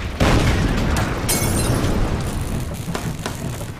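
An artillery explosion in the strategy video game Order of Battle: Winter War, a loud close boom with rumbling tail and a second burst shortly after, fading under faint background sounds.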